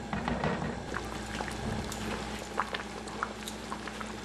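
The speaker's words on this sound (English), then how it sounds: "and then we're going to let it simmer" Beef rendang curry simmers quietly in a pot, giving a soft, continuous bubbling with scattered small pops and ticks, faint and steady, with no voices.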